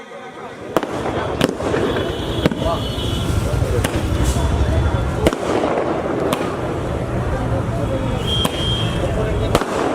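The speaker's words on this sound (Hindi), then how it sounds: "पटाखों से भी स्वागत हो रहा है।" Firecrackers burst again and again at an outdoor Independence Day gathering marking 15 August and the 75th anniversary. Sharp cracks come every second or so over a steady crowd noise, and people talk throughout.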